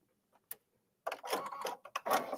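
An embroidery machine stitching a design starts after a few faint clicks, then runs in a close, rapid mechanical chatter with small stutters and pauses.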